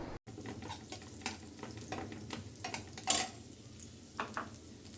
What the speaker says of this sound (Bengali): পেঁয়াজটা দিয়ে আমি এখন ভালো করে বেজে নিচ্ছি নেড়ে ছেড়ে